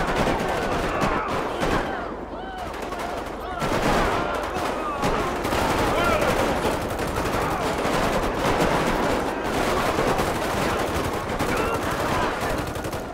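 Heavy, sustained gunfire fills a gang-war shootout in a favela in GTA V, with overlapping automatic bursts and sharper sniper cracks, loud and continuous throughout.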